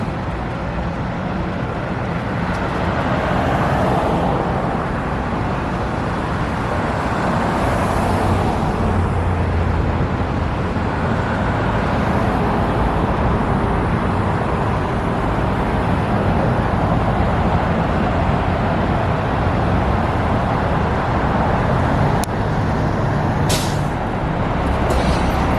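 Steady, loud road rumble fills the cabin of a Gillig Phantom commuter bus on a Roseville Transit seasonal shuttle, with continuous engine and tyre noise and a couple of sharp hissing bursts near the end.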